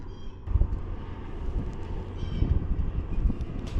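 Steady breeze buffeting across a fishing pier, a continuous low rumbling wind roar against the microphone with gusty swells, loud and close, no voices.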